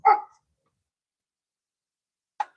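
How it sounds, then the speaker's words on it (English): A dog barks outdoors near a lake during a bass-fishing outing: one sharp, fairly close bark, a long silence, then a second short bark. "Get away from that annoying ass dog"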